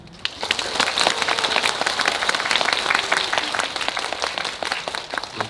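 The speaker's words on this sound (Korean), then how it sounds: "답변을 하실 때마다 이렇게 또 박수를 쳐주시는 게 약간 콘서트장이고" An audience at a Korean movie talk event applauds in a dense, steady burst of clapping that rises quickly, holds for several seconds and then thins slightly, heard close up.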